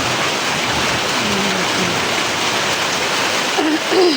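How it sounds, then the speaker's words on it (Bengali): Heavy afternoon rain pours down in a steady, dense hiss that stays loud and unbroken throughout, with a faint voice briefly in the background. "দেখেন প্রচণ্ড বৃষ্টি পড়তেছে"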